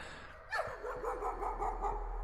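A dog barks repeatedly in the horror game Layers of Fear, a sharp first bark followed by a run of fainter, evenly spaced barks and yips over a low background hum.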